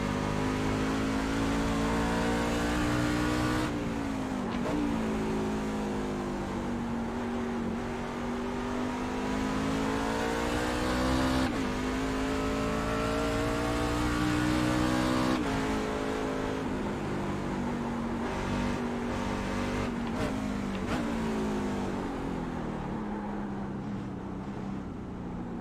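Simulated NASCAR truck engine lapping Canadian Tire Motorsports Park (Mosport) in iRacing, a steady loud drone rising and falling in pitch through shifts and corners, continuous for the whole stretch with no voices.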